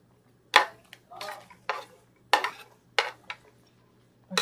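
Vegetables, including beans, dropped into a simmering pot of sotanghon glass-noodle soup, heard as a series of separate clattering, splashing clinks against the pot and utensils, close and moderately loud, spaced roughly every half second.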